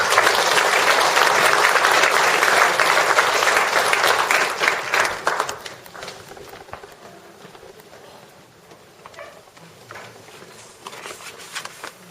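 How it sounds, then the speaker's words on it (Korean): Audience applause welcoming the lay community president Kim Do-hoon as he is introduced at a Won Buddhist gathering in Busan-Ulsan, a loud dense clapping for about five seconds that thins and fades into quiet scattered claps. "큰 박수로 환영합니다."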